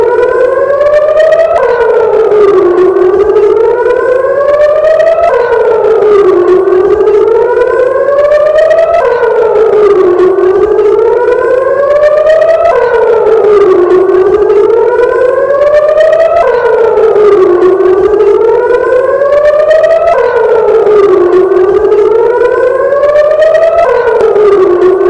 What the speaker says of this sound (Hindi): जब वहां सायरन बजता था तो कैसे लोग छिपते थे